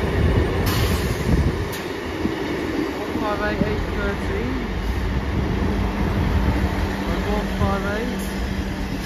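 An East Midlands Railway Meridian train for London St Pancras rumbles loudly and steadily past the platform at Chesterfield station, a continuous close roar with faint clattering and a high whine over it.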